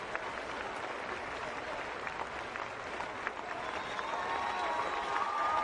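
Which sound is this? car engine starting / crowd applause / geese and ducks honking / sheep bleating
crowd applause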